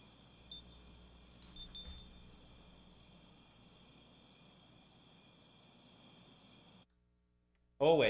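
Crickets chirp in a steady, high trill with a spacious, echoing tail, a few soft thumps early on, then a brief silence before a sudden loud burst at the end.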